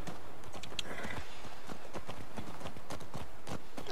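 A horse ridden in The Last of Us Part II gallops with steady rhythmic hoofbeats, close and clear, continuing without pause across the whole stretch.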